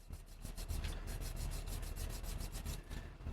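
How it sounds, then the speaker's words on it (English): A burnishing tool rubbed back and forth along leather armour straps, giving a steady rhythmic swishing friction, close and continuous, with quick repeated strokes and no talk. "This is a burnishing tool. Took me a minute. You just run it back and forth"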